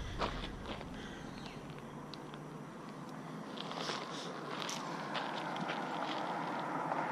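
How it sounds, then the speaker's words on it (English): Road traffic drones steadily behind a walking trail at Hyatt Hidden Lakes Reserve in Boise, a faint, continuous wash of passing vehicles, with footsteps crunching along the path nearby and no talking. "you can hear the traffic behind me"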